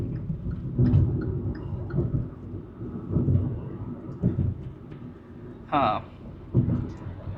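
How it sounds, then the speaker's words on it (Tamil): Heavy rain pours steadily over a car on the road, a dense continuous wash with a few louder bursts, and someone talks over it throughout. "உங்கள் நேரத்துக்கு மழைலாம் நல்லா பெய்யுது."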